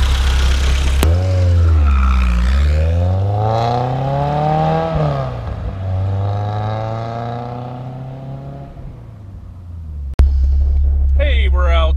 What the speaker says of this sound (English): Go ahead and rev it up here.